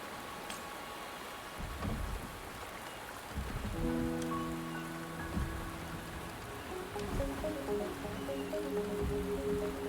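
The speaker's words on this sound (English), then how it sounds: "The rain is subsiding, and the sky will soon clear." Steady rain falls in the video game Wuthering Waves, a dense continuous hiss with deep rumbles of thunder rolling in and out, while tonal game ambience rises partway through.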